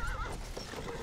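In the World War I shooter Battlefield 1, a horse gives a loud, close whinny at the start over a steady battlefield rumble, with a few hoof clops mixed in.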